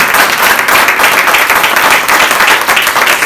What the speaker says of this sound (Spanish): Aplaudí al rey, apláudale